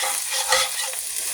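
Rice and vegetables toasting in hot oil for dirty rice, a continuous bright sizzle with brief stirring scrapes, close and steady.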